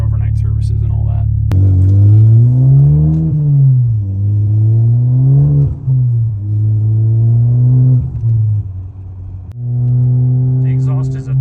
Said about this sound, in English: The exhaust is a tad drony.